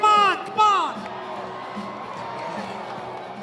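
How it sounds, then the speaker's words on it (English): Rodeo arena crowd at a bull riding event, two loud bursts of shouting and whooping near the start, then a steady murmur of cheering spectators for the rest. "cheer 'em on, come on!"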